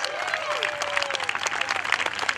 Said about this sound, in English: How about a big round of applause for the Red Bull Air Force?